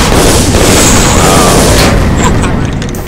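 Gunfire and explosions from a Guns of Icarus airship battle roar as one loud, continuous wall of booming noise that fades slightly at the end.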